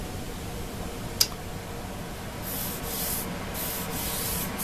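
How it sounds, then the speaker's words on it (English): A small saw scrapes out a slot on a guitar to clear gunk and reach depth, making a steady raspy rubbing noise close up, with a single sharp tick early and strokes growing brighter toward the end. "we've got a little saw that we can go in there and clean them out enough to get the right depth"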